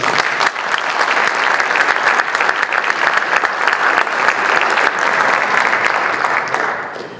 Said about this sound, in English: Ladies and gentlemen, how about a nice round of applause for Trig COSTA.